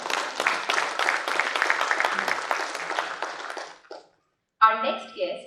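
Audience applause at a manufacturers and exporters summit inaugural session, steady hall-wide clapping that stops abruptly, then a short silence before a voice speaks.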